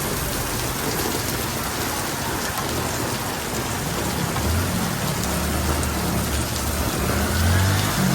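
Heavy rain pours down on Ludhiana city in a dense, steady hiss, with a low rumble swelling faintly in the background.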